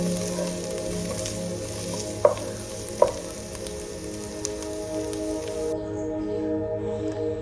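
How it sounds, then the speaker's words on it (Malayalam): Chopped onion, ginger, green chilli and garlic sizzle steadily in hot oil in a pan, with a couple of sharp clinks from stirring. "ചെറുതായിട്ട് അരിഞ്ഞു വെച്ചിരിക്കുന്ന സവോള ചേർത്ത് കൊടുക്കുകയാണ്"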